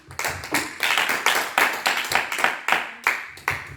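A church congregation claps in unison in acclamation, sharp rhythmic beats about three per second, close and clear, with no talking over them.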